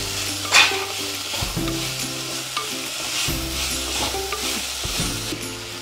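Chopped green chillies sizzle steadily in a hot pan for a spinach chicken curry, with a constant frying hiss and occasional scraping stirs, close and clear with no talk.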